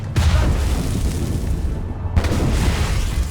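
Ship cannons boom in Assassin's Creed Rogue, a heavy blast followed by a rolling rumble, then a brief drop and a second booming volley, all loud and close with no speech.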